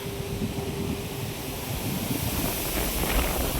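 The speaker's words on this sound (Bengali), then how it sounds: "কীরকম ঝড় উঠেছে" Strong storm wind roars steadily across the microphone, a dense rushing blast that never lets up.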